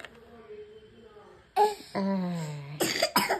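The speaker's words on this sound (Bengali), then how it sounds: "ঠান্ডা লেগে কাশি হয়ে খুব খারাপ শরীরটা" Someone with a cold coughs several times after a quiet stretch: a sharp burst, a longer strained, wheezy cough, then two more close, harsh coughs.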